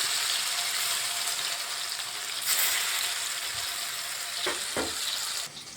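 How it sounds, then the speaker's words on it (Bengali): Banana flower fritters frying in hot oil, a dense, steady sizzle heard up close throughout, with a couple of brief utensil knocks near the end and no talk. "এগুলো আমি ভেজে নিচ্ছি"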